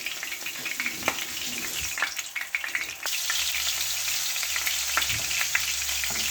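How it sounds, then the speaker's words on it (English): Fish frying in hot oil in a pan gives a steady, close crackling sizzle that grows fuller and louder partway through, with scattered sharper pops and no talking. "the fish is in the oil now, viewers, and we're going to cook each side for around about 2-3 minutes"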